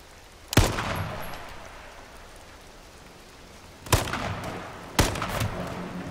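Three sharp gunshots ring out in the H1Z1 battle royale video game, one near the start and two more later in quick succession, each with a short ringing tail over a quiet background.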